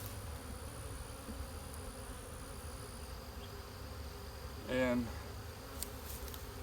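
A steady, low insect buzz hums throughout, a dense droning of a honey bee swarm close by, with a brief louder burst near the end.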